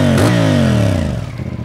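A CF Moto 450CL-C motorcycle engine revs hard, its pitch sweeping down as the revs fall after a sharp blip, loud and close, ending in a lumpy idle.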